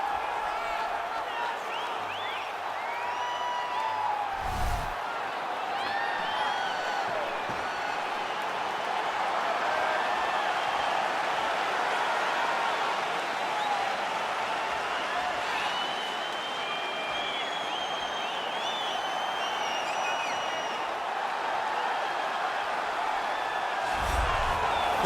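Sold-out arena crowd in the EA Sports UFC 4 video game before a UFC flyweight championship bout, a steady roar of cheering and applause holding throughout with a few louder swells.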